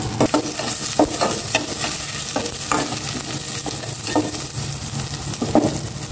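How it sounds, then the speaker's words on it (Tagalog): Onion sautés in a small amount of cooking oil, a constant close sizzle with regular scraping clicks of a utensil being stirred through the pan. "Gisa ko na rin itong sibuyas."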